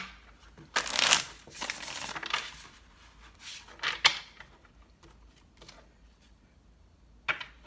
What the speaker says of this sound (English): This will be your last shuffle.